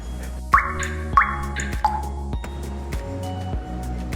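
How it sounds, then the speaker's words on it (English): Thick aloe vera gel drops into a plastic Tupperware bottle in a few wet plops and squishy drips, spaced about half a second apart, close and clear with no talking. "Just go ahead and put in our gel."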